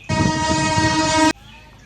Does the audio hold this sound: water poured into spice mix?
no